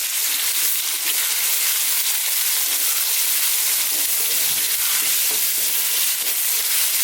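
A 50-50 garlic and ginger paste fries over medium-high heat in a pan, giving a loud, constant bright sizzle with soft stirring scrapes running through it.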